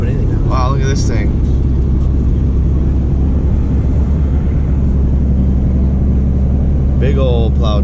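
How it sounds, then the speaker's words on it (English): A big plow truck's engine rumbles loud and close on an icy road, a low steady drone filling the whole stretch, with a person talking briefly at the start and again near the end. "Big old plow truck."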